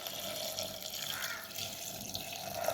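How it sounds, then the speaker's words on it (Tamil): Water poured steadily into a pressure cooker for drumstick leaf soup, a continuous splashing stream, close and moderately loud, with no talking. "தேவையான அளவு தண்ணி."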